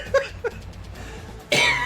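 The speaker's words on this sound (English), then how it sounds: "So I do apologize for the coughing." A person with allergies coughs: two short coughs early on, then a louder, rougher burst near the end, close to the microphone against a quiet room.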